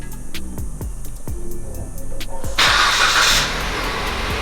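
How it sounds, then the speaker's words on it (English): A car engine cranks with a rapid rhythmic starter whir, several repeated turns, then catches and roars to life loudly and close before settling into an idle. "She can't even get the car started."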